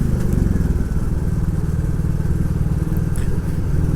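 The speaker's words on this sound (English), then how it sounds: "isn't that exhaust resonating off these walls" A Royal Enfield Classic 350 single-cylinder exhaust thuds in a fast, even rhythm on overrun, its loud popping burble resonating off stone walls along a wooded North Wales road, close and continuous.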